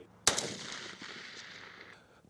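A single sharp gunshot cracks out near at an outdoor shooting range, then rings and echoes away, followed by another shot starting at the very end.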